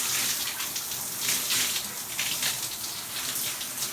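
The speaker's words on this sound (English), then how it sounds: "Get that product in there, and then you're gonna rinse." Water running steadily from a tap or shower while product is rinsed out of curly hair, a close, continuous splashing gush.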